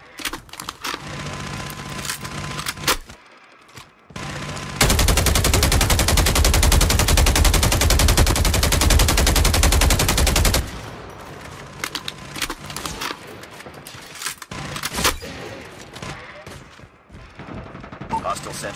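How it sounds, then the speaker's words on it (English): Sustained automatic fire from a hostile sentry gun in Call of Duty, a dense, loud, unbroken rattle lasting several seconds, with quieter game action and faint voice lines before and after. "Hostile sentry gun in your AO."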